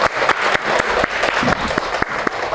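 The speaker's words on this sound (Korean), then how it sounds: "우리 박수 한번 칠까요?" Audience clapping in a meditation talk setting, a short burst of sharp, rhythmic hand claps from a small group, moderately close and steady throughout.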